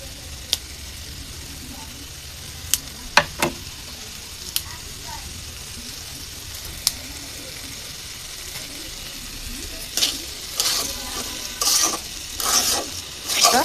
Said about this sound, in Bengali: হালকা ভাজতেছি, বেশি ভাজছি না